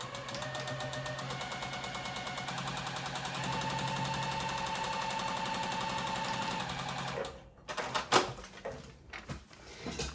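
A sewing machine stitches a paper-pieced patch made from strips, running in a fast continuous mechanical rattle for several seconds, then slowing into a few short bursts and clunks as it stops.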